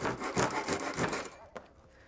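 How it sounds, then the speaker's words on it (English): A hand saw cutting through cedar lumber in quick rhythmic strokes, ending with a final snap as the piece breaks off, then quiet. "And then I'm just going to finish sawing this."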